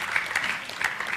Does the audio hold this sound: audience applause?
yes